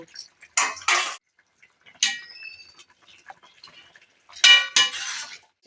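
Boiled, softened potato, pumpkin and bottle gourd are tipped into a metal cooking pot, making a few short clattering scrapes and metallic clinks in separate bursts with quiet gaps between.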